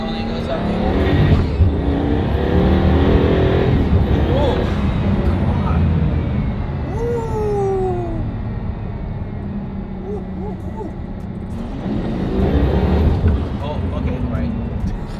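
A Pagani Huayra supercar engine roars loud and close, revving and pulling hard as it accelerates, with a steady rising drone that swells again near the end.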